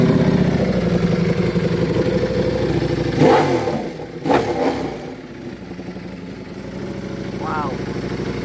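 A custom full carbon fiber Ducati Panigale V4 motorcycle engine runs steadily nearby at a low, throbbing idle, with a couple of short clattering bursts midway, under continuous talk.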